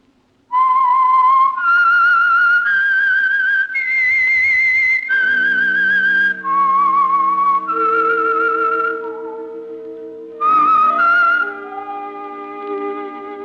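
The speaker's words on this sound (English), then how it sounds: "That whistle is your signal for the Signal Oil program, The Whistler." A lone whistler performs the eerie theme melody of The Whistler, an old-time radio mystery program, in clear sustained notes that slide between pitches, followed by a soft orchestral chord underneath.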